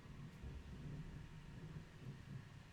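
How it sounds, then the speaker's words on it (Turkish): Low, faint thunder rumbles steadily through a storm for a few seconds, distant and continuous, with no voices over it. "Bilmiyorum gök gürültüsünü duydunuz mu ama hayvan gibi şimşek çaktı abi."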